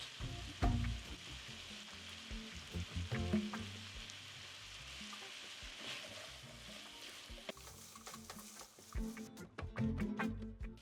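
Peppers, diced carrots and a spoon of tomato paste sizzle in a pan for an eggplant chickpea masala, a steady frying hiss broken by stirring clatter and scraping, with no talking.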